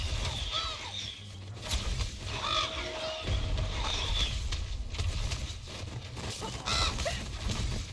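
Ravens cawing in the fantasy MMO Ashes of Creation, several harsh calls repeating across a dense backdrop of game combat sounds and rumble.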